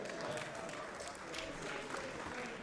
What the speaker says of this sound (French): On peut applaudir très fort les deux équipes.